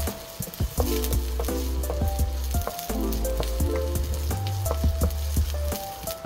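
Garlic, onion and ginger sizzling in a pan before chicken goes in for tinola, a loud close crackling fry under sharp, irregular clinks and taps of a spatula, no talking.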